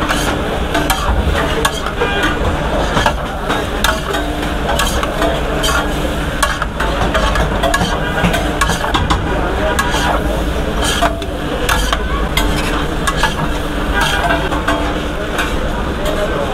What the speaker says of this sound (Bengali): এখন হচ্ছে নাড়াচাড়া।